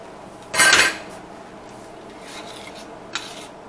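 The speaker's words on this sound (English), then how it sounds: "Stir it up. Let it cook down for a little bit." A utensil scrapes through Hawaiian BBQ sauce of tomato paste and vinegar in a cooking pot, one brief, bright metallic stir up close, followed by a couple of faint light scrapes.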